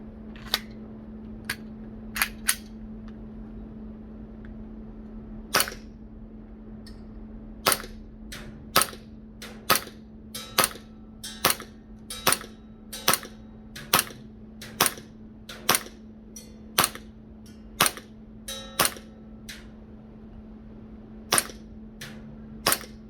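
A WE Glock 19 series Gen5 MOS airsoft pistol firing at a target, about twenty sharp close snapping shots, sparse at first and then in a quick irregular string, over a steady low hum.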